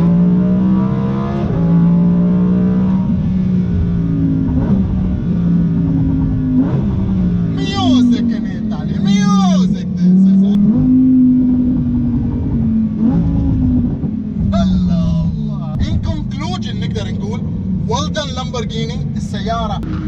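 A Lamborghini engine rumbles and revs up and down in repeated swells while someone talks excitedly in Arabic over it.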